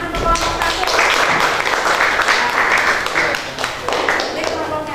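Classroom students in an Indonesian teacher-training lesson applaud a presenting group, with dense, continuous clapping filling the room at steady loudness for several seconds.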